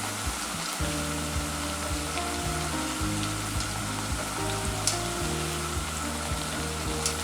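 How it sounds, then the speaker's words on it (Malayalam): Kuzhalappam, a rice-flour snack, deep-frying in oil over a medium flame, giving a steady close sizzle and crackle that runs throughout over a low hum, with no talking. "എപ്പോഴും ഞാൻ പറയാറുള്ളത് പോലെ തന്നെ ഒരു മീഡിയം ഫ്ലെയിമിലാക്കിയിട്ട് ഇത് ഫ്രൈ ചെയ്തെടുക്കാം"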